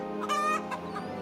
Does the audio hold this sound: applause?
no